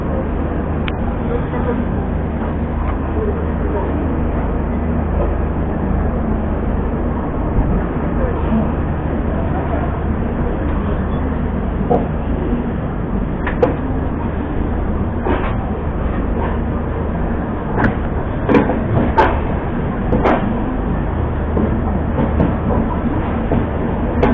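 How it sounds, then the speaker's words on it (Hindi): Bihar Sampark Kranti superfast express leaving New Delhi railway station, heard from inside a 3AC coach: a steady low rumble with occasional clicks and clacks of the wheels on the track, under ongoing talk. "हम लोग का राइट टाइम डिपार्चर हो चुका है न्यू दिल्ली रेलवे स्टेशन से"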